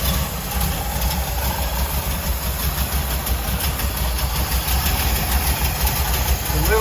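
The 55's engine idles steadily after sitting dormant for six months, a continuous, even running drone at close range with no break throughout.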